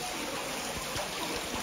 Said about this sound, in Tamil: பெரிய ஒரு பைப்பு, அந்த பைப் வழியாக தண்ணி வெளியில் வருது